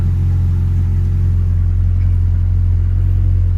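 Ford Escort engine, an RS Turbo or XR3i under restoration, idles steadily with a deep, even rumble and light revving, close and loud throughout with no talk.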